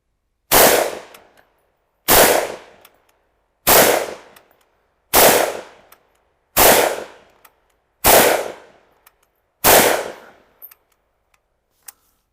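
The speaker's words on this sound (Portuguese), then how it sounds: "vamos tentar alguns disparos" Seven loud, sharp shots from a Soviet SVT-40 semi-automatic rifle ring out one at a time, evenly spaced about a second and a half apart, each with a short echoing decay.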